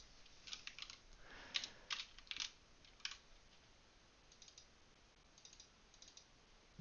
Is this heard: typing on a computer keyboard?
yes